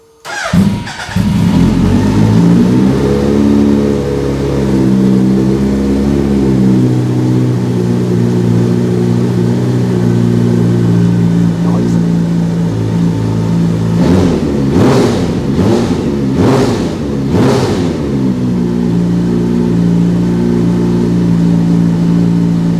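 A Suzuki Hayabusa motorcycle engine on a dyno, loud and close, idling and blipping through several sharp revs in a quick cluster before settling back to a steady warm-up idle.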